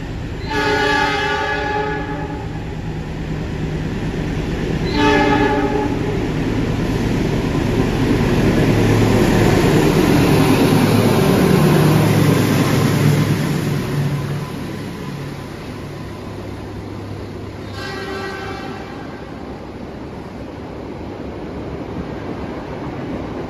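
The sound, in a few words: Progo passenger train passing with horn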